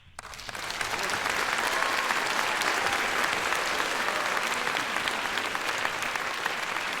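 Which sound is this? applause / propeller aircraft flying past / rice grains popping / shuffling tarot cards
applause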